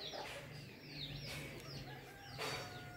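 Faint hen clucks and soft chirpy calls come from nearby hens on a family farm in Rosario de la Paz, over a steady background hum, with no voices.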